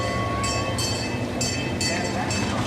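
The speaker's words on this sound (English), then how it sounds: "there goes the train right behind me" An amusement park train at Story Land rolls past close by with a steady rumble and rhythmic bursts of clatter, while a voice talks over it.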